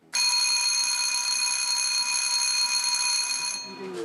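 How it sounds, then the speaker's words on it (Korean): A fire alarm rings with a loud, steady electronic tone for several seconds and then stops, sounded during a safety inspection at a traditional market. "화재 경보기가 잘 울리는지"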